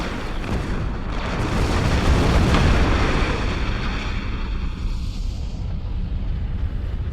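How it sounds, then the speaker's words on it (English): In the space game Star Trek Online, a torpedo slams into a starship's shields with a heavy, rumbling explosion. The blast rolls on as a dense, roaring wash for several seconds before slowly thinning out. "We actually broke through their shields with that torpedo. It hit so hard."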